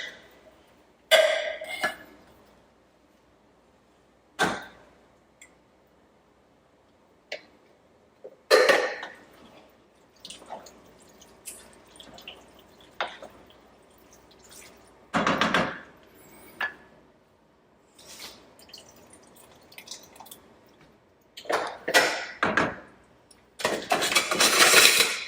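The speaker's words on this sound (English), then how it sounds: "in goes the undrained kidney beans" Undrained canned kidney beans go into a pot of chili, heard as scattered clinks, scrapes and wet clatters of can and utensils against the pot, separated by quiet gaps.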